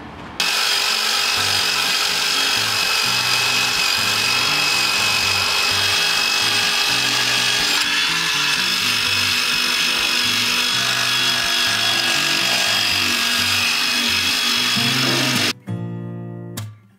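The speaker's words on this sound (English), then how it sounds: "You're using these wire brush bits." A power drill fitted with a wire brush bit scrubs rust and dirt off an RV frame, a loud, continuous whirring grind with scratchy rasping that runs steadily for about fifteen seconds before winding down.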